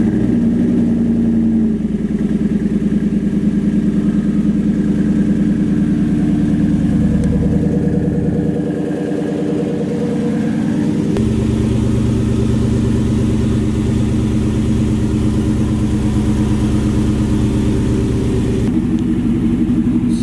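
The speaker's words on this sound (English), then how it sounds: "I'm gonna give you guys a little cold start to show you how it sounds right now." Single cab truck with a Flowmaster muffler exhaust cold-starting and settling into a loud, steady idle with a deep, rumbling drone that shifts pitch partway through, heard close up and alone.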